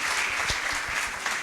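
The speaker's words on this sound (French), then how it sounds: "On peut les applaudir encore" Applause from the audience for the trainees at the closing ceremony of a national press week, steady dense clapping filling the room throughout.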